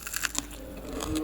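A crisp bite into fried potato and onion fritters, a short crunchy burst near the mouth followed by faint chewing.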